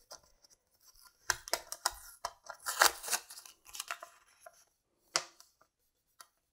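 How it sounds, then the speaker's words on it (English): Tape being peeled off a sublimated glass can cup, a run of close crinkly tearing and scraping bursts, loudest in the middle, then a couple of isolated short rips near the end. "I'm just going to peel off the tape."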